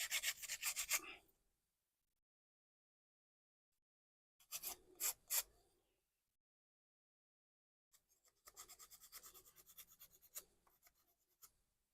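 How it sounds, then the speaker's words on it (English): Small plastic model kit parts get a brief sanding with an emery board, heard as three close bursts of dry rubbing strokes separated by silence, quiet and rhythmic. "Just give these a very brief sanding"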